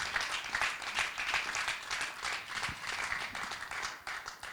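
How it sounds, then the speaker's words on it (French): A church congregation applauds and claps for the Lord in steady, lively waves from a crowd at middle distance, moderately loud and continuous throughout. "Est-ce que tu peux bien acclamer pour le Seigneur?"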